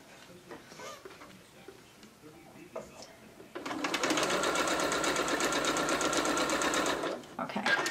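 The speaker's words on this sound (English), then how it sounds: "we're gonna sew about a quarter of an inch" A sewing machine runs a quarter-inch seam in one loud, continuous burst of fast, even stitching lasting a few seconds, preceded by soft handling noises and quiet talk, then stopping abruptly.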